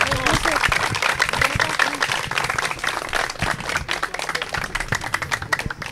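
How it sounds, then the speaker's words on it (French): A crowd at an outdoor public school event in Maroua, Cameroon claps loudly and continuously, a thick wash of applause filling the whole stretch. "On applaudit très fort."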